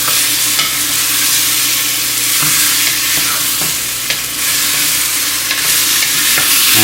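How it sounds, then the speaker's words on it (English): Oysters and roast pork fry in a clay pot while being stirred, a loud, dense, continuous sizzle broken by periodic scraping knocks of the utensil against the pot. "Now you want to stir this for about 3 minutes."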